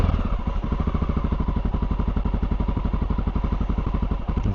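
A Honda XR650L motorcycle engine idles on half choke with a fast, steady, even thumping beat, loud and close throughout with no pauses.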